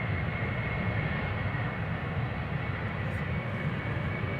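An Embraer 190 airliner departs Amsterdam Schiphol bound for Toulouse, its engines a steady, continuous broadband roar heard from a distance with no voices over it.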